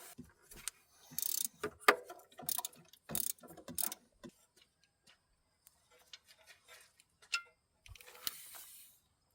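Ratchet on a 3-inch extension backing out a 15mm bolt from the power steering pump bracket of a 2007–2013 Chevy Silverado, giving bursts of quick metallic clicks in several short runs, close and fairly quiet, with pauses between.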